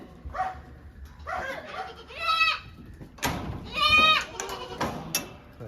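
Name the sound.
goats bleating for milk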